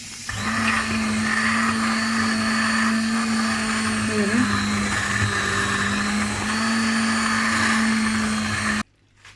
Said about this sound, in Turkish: Çorbamızı çektik blenderda